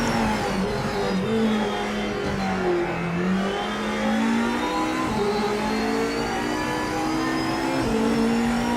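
Hypercar engine in a racing video game revving steadily and continuously, with a loud tone that climbs and drops through gear changes, and no talking over it.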